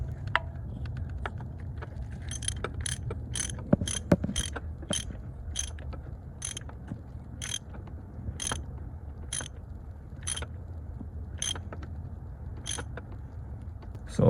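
A 19mm deep socket wrench ratchets on a bolt in the engine bay of a 2002 Mitsubishi Galant, giving a series of sharp, regularly spaced clicks over low background hum; no speech.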